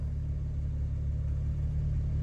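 A BMW 335i twin turbo engine idles just after start-up, a steady low humming drone with an even rhythmic throb, heard from inside the car.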